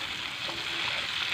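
Steady, close sizzling and crackling of peppers sautéing in oil in a pan, a continuous hiss with no pauses or voices.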